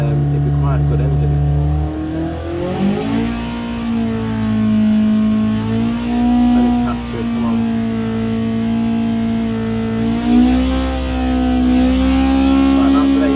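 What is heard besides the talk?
Hillman Imp engine revving on dyno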